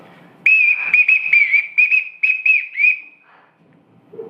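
In a large country house on a big estate, a whistle is blown as a summons: a sharp, shrill series of about seven short blasts in quick rhythm, close and loud, with no talking.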